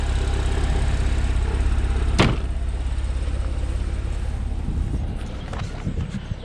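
A Porsche 911 Carrera S (997) with a direct-injection 3.8 rear engine idles steadily with a low, even hum, heard close and alone, with one brief sharp knock partway through.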